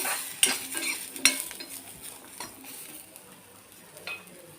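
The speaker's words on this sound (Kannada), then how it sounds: "ಉಳ್ಳಾಗಡ್ಡಿ ಮತ್ತು ಕೊಬ್ಬರಿ ಎಲ್ಲ ಸ್ವಲ್ಪ ನೀಟಾಗೇ ಹುರಿಬೇಕು" Onion and coconut fry in a pan while a spatula stirs and scrapes, giving sharp metallic clicks and scrapes over a soft, continuous sizzle, close and moderately loud.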